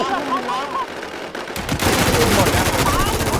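Gunfire in an online shooter game: a stretch of rapid automatic fire and shot bursts that grows louder and denser halfway through. Excited player voices talk over it.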